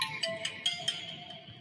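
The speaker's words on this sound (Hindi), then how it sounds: "एक फोन आ रहा है" An incoming call's phone ringtone plays a series of bright, evenly spaced electronic tone pulses, fairly clear and close, followed by a fading tail.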